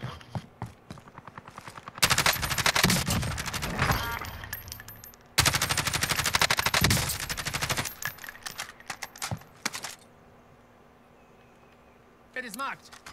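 Bursts of MP7 submachine gun fire in Call of Duty: Warzone, with two long loud stretches of rapid shots and scattered shorter bursts after them, mixed with voices talking.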